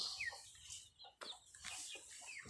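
Chickens in a farmyard shared with ducks give faint, scattered clucks and chirps against a quiet, hissy background, with no one speaking.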